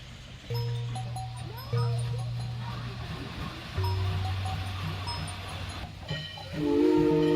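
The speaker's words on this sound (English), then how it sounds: "Open the throttle a little and the exhaust thickens." A classic steam locomotive hisses and sounds its whistle in several long, steady blasts. Steam and exhaust noise runs underneath, and a voice talks over part of it.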